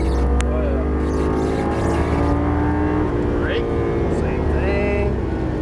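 A Lamborghini Gallardo Superleggera LP570-4 engine roars steadily on a race track, a loud continuous drone heard from inside the car, with a voice talking over it.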